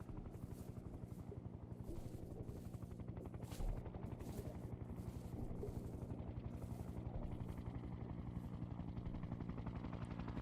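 A helicopter flies close by, its rotor beating in a steady rapid chop under a constant engine drone for the whole stretch, loud and unbroken.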